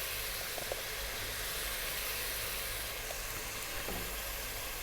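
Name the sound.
beef sizzling while cooking in butter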